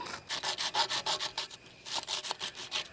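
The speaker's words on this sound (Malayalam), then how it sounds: "അത് ഇവിടെ വെച്ച് തന്നെ കട്ട് ചെയ്യുമ്പോൾ അപ്പുറത്തിപ്പുറത്ത് മണ്ണീൻ്റെ സപ്പോർട്ടുള്ള കാരണം നമുക്ക് നല്ല സുഖമായിട്ട് മുറിക്കാൻ പറ്റുന്നുണ്ട്" A PVC water pipe being sawn by hand while supported on soil, steady rasping back-and-forth strokes in a regular rhythm, close and fairly quiet, with a short pause midway.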